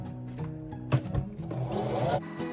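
Sewing machine stitching a run of fabric face masks in a fall-theme print, chaining one mask straight into the next; a steady motor whir with a couple of short louder bursts, close up, alone.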